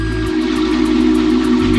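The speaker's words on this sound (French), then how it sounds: "il fut un temps où les trains faisaient ce bruit" A steam train whistle blows as one steady, loud, sustained tone over a continuous hiss of steam, close and alone.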